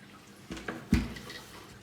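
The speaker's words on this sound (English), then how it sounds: "So this one comes all the way from the main waterfall, drips all the way down into here." Water from a paludarium's main waterfall drips down into a lower section, making a few soft, close drops and splashes, with the clearest single drop near the middle, over a quiet room hush.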